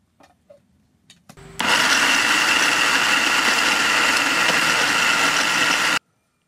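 An electric mixer grinder blending an ice cream mixture, preceded by a few faint clicks and handling knocks, then a loud close whirring roar that runs steadily for over four seconds before cutting off abruptly.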